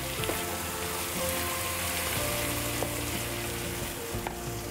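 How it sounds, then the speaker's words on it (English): Beef and vegetable stir fry sizzles steadily on the boiling plate of a Rayburn range, a dense, close frying hiss with light stirring clicks and no talk. "a quick and easy beef and vegetable stir fry cooked on the boiling plate of"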